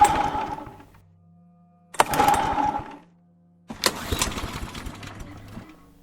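An old motorcycle is kick-started over and over and refuses to catch: three separate bursts of sputtering engine noise, each dying away into a short pause before the next attempt.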